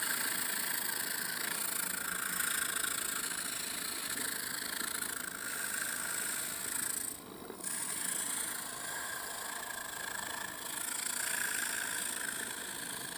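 A Dr Physio 1021 body massager with a dead skin removal head runs close by, giving a steady, even electric buzz with a slight dip midway and no talking.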